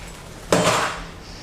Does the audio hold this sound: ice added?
yes